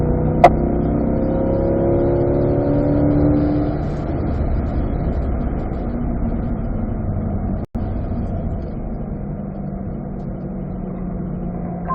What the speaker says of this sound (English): We're going to accelerate out and back to fourth gear.